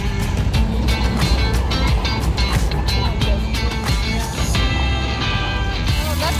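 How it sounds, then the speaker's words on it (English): A passing car with a rough, unhealthy-sounding engine rumbles along a beach-area road, its loud, continuous drone carrying through steady broadband noise for several seconds without talk. "Oh, that car doesn't sound nice."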